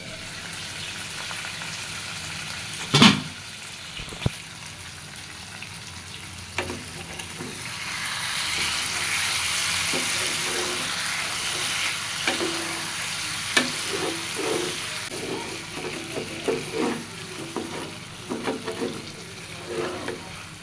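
Meat being fried and stirred in a pan, with a steady sizzle under scattered scraping and clinking stir strokes, one sharp loud knock early on, and no talk.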